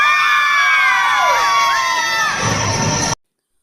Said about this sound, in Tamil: ஒரு டான்ஸ் ப்ரோக்ராம் முடிஞ்ச உடனேயும் அவங்களோட ஆரவாரம் மகிழ்ச்சியை தெரிவித்து